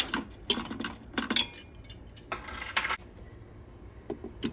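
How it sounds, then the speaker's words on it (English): Metal utensil scraping and clinking against the bottom of an Instant Pot while deglazing with water and liquid smoke for kalua pork, in a quick irregular series of close scrapes and taps with no talk. "We're going to deglaze the bottom of the pot."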